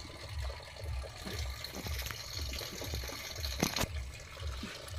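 Water runs steadily from a tap with a rushing, splashing flow and a brief louder gush midway, under a low rhythmic background thump.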